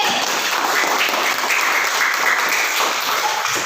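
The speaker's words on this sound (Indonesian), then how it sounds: "Coba beri tepuk tangan untuk kelompok B." A classroom of students claps for group B after its presentation, a short burst of dense, even applause that stays loud and close throughout.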